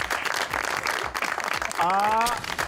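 Clapping during a comedy sketch about a genie summoned by a clap, a dense and steady patter throughout, with voices and a short rising tonal sweep near the end.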